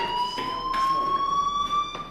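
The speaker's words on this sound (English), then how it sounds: "do you hear that fire alarm?" In the video game Life Is Strange, a school fire alarm rings with a steady, piercing electronic tone that holds continuously with slight rising pitch and faint background shuffling.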